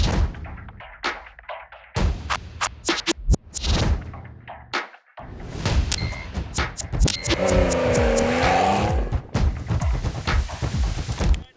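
Porsche 911 GT3 RS and 718 Cayman GT4 RS sports cars on a track during a Porsche driving experience, loud engines revving and roaring past in bursts, with a sustained high-pitched engine howl in the middle.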